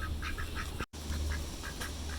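A duck quacks in short repeated bursts, several honking calls spaced irregularly, with a brief dropout partway through and no talking.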